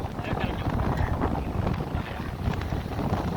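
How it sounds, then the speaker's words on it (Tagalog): Strong cold wind buffets the microphone at a seaside baywalk, a loud continuous low roar and rumble that persists steadily throughout with no pause. "Grabe, ang lamig ng hangin."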